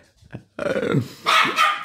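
A dog barks and growls up close in short, harsh bursts with gaps between them, heard on a long walking route along the Way of St. James; the dog is an uncastrated male.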